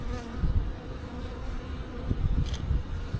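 Honey bees buzz continuously at a hive entrance, a steady droning hum with a few louder passes close by.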